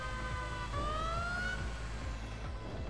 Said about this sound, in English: You gotta change your sirens every 20 to 30 seconds